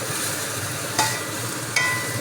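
Spinach frying with taro and potatoes in a pan: a constant bright sizzle close by, broken by a few sharp spatula scrapes as the greens are turned.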